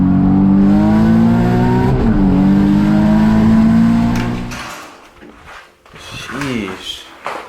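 A Nissan Z's turbocharged engine revs, holding a loud sustained note before dropping away, then short rising and falling bursts of revving follow.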